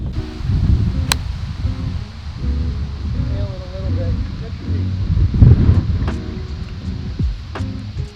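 Strong, gusty wind of about 35 mph buffets the microphone on a Myrtle Beach golf course, a continuous roar with rustling trees and a faint distant car, and occasional short clicks.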